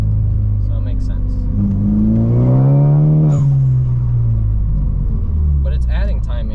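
An engine on a car tuned with ChatGPT pulls hard on a test drive, a loud close rumble rising in pitch through one long acceleration and then easing off, with someone talking over it.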